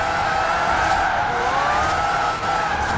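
A Forza Horizon 4 car drifting through a corner after a clutch kick, engine droning steadily under a long rising tire squeal, close and continuous without speech.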